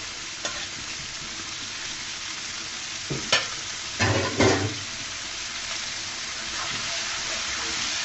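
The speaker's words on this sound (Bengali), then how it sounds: "নেড়ে চেড়ে দিচ্ছি।" Onion stalks (peyaj koli) are stir-fried in a pan, a steady close sizzle broken by a few sharp scraping and tossing bursts of the spatula partway through.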